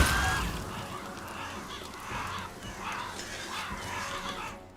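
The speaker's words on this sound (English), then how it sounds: "Frickin' crows." Crows cawing in the video game Pathfinder Kingmaker, a few harsh calls repeating in clusters over steady game ambience.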